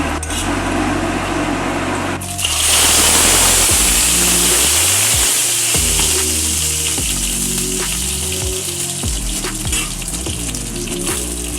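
Pointed gourd (potol) pieces frying in a pan as they are stirred. A hard rushing hiss jumps in loudly after about two seconds and continues as a close, steady sizzle broken by clattering knocks of stirring. No one talks.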